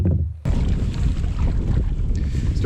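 Steady headwind roars across the microphone while paddling a canoe on an Algonquin lake, a dense low rumble of gusts and water noise that starts abruptly after a brief quieter moment and holds loud and continuous.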